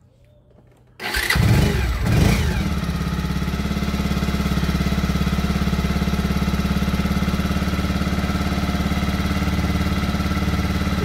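A Bajaj Pulsar 150 DTSi UG3 motorcycle engine cranks and catches after a second of quiet, then settles into a steady, loud, even idle that continues to the end.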